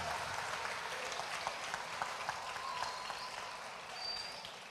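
Congregation applauding during a church service, a steady sustained wash of clapping from many hands throughout, fairly even in level, with no clear talk over it.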